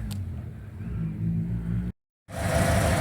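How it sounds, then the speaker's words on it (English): A 1956 Packard Patrician engine idles steadily with a smooth, low rumble, cutting to silence for a moment before resuming louder. "Here's the engine run. Burrs like a kitten. I just actually just started it up."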